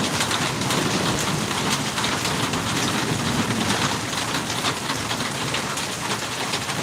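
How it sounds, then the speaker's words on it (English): Steady, dense rain pours down on a rainy day, a constant close hiss of drops with no voices. "Nice, relaxing, rainy day."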